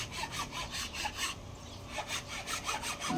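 Carabao horn being sanded by hand, a rapid rhythmic rasping of repeated strokes, close and fairly faint, with a brief pause midway.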